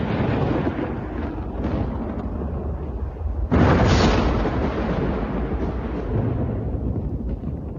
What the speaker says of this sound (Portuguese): Os trovões vão entrar de novo